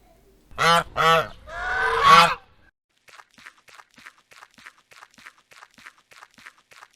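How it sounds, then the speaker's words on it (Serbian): Three loud, nasal goose honks close by, followed by a long run of soft, evenly spaced tapping sounds. "To je guska."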